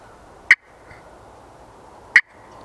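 Two crisp, separated yelps from a turkey pot call played with a striker under heavier pressure, each brief, loud and raspy, close up with quiet gaps between.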